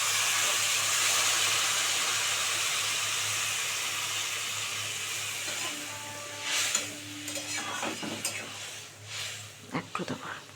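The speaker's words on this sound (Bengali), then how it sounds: "এবারে গরম জলটা দিয়ে দিচ্ছি এর মধ্যে।" Hot water goes into frying spiced masala for a katla fish curry, a loud steamy hiss at once that slowly fades into softer sizzling and bubbling, broken near the end by a few clinks and stirring sounds.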